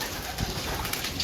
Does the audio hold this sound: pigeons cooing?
yes